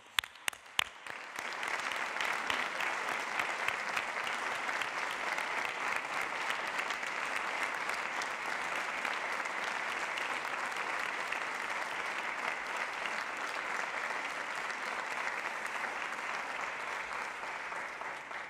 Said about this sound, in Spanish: Ellos también creo que necesitan un aplauso